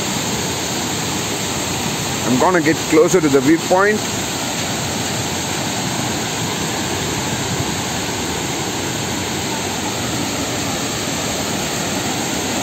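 Ravana Falls in Ella, swollen after evening rain, roars as a loud, constant wash of rushing water; someone speaks briefly over it early on, then the torrent continues alone.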